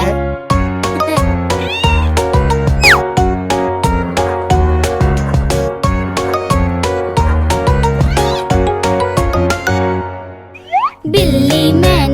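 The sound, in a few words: cat meowing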